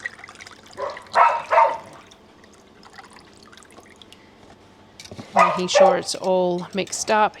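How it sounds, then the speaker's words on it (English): Neighbours' dogs barking from next door, a couple of short bursts early and a longer run of yaps near the end, moderately close, while someone talks about mixing milk in the kitchen. "You're going to have to excuse the dogs."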